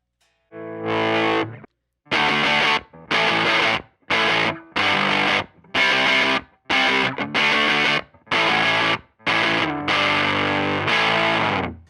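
Electric guitar through a Catalinbread Dirty Little Secret III overdrive pedal set for a JCM 800-style amp sound, heavily distorted in loud, crunchy bursts, a run of chunky chords and held notes separated by short gaps, played alone.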